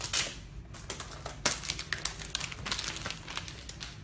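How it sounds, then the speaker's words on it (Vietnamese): Plastic packaging and wrap crinkle and tear as a 2017 13-inch MacBook Air laptop is unwrapped, giving close, loud, irregular rustling and crackling bursts throughout. "Bây giờ tôi sẽ bóc cái máy này ra."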